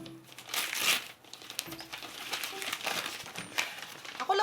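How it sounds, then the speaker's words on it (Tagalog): Paper crinkles and rustles continuously as a Funko mystery box is unwrapped, with close, bursty crumpling sounds and no talk. "Ako lang ba yung nare-relax dun sa tunog ng mga papel?"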